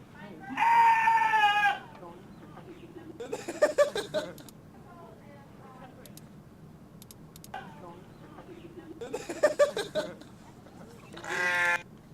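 Goat-like bleats, or a person imitating one, in a guessing game of goat or human: a loud quavering cry at the start, then wavering nasal calls near the middle and end, with quieter background between them.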